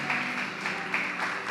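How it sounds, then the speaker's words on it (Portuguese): A church congregation applauding loudly and steadily, dense clapping from many hands filling the room with no pause. "Aplauda o Senhor bem forte em nome de Jesus."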